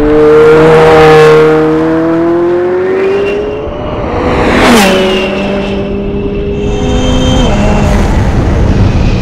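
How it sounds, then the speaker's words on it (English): A Hennessey-tuned McLaren 720S roars loud and close as it accelerates hard, its engine note climbing through each gear, dropping sharply at the shifts, with blow-off valves venting between pulls. "we've also added blow-off valves. So the sound is phenomenal"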